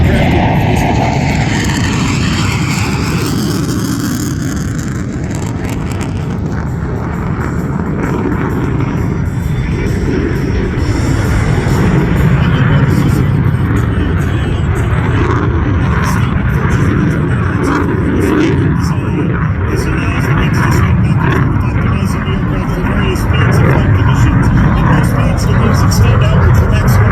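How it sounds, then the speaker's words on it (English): A German Air Force Tornado swing-wing military jet roars steadily for the whole stretch, a loud, broad, sustained engine rush that swells slightly as it passes, with no voices. "The German Air Force currently operates 82 Tornado aircraft."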